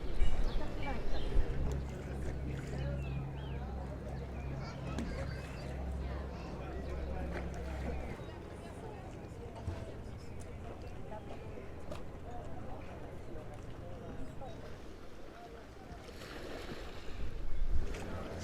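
A boat motor drones steadily over harbor water near Portofino, Italy, with wind and splashing around it; the engine hum is strongest early, then fades under the surrounding noise.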